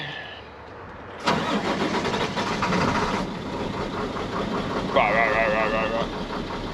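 An old big dump truck engine cranks and catches around the one-second mark, then settles into a loud, rough mid-pitched idle that runs steadily throughout, with a brief whine near the end.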